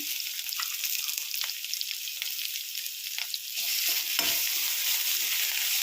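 Ground rasam ingredients (cinnamon, cloves, coriander seeds, garlic, ginger and coconut) fry in a pan with a constant bright sizzle, broken by scraping stirs of a spoon and a brief clunk near the end.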